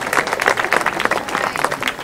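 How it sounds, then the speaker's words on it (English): An audience at a stage event claps in a short, uneven round of applause, individual hand claps standing out close and fairly loud, with no talking over it. "Give yourselves a round of applause."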